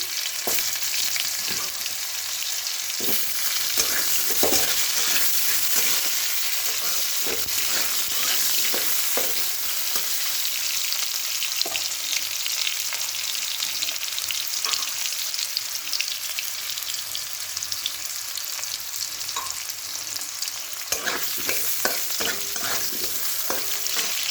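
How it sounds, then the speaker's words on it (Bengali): Potato pieces frying in a pan of oil for a spice tempering, a continuous loud sizzle broken by frequent stirring scrapes and clicks throughout, with no voices. "আলু ভাজা হোক। আলু হালকা ভাজা হয়ে গেছে।"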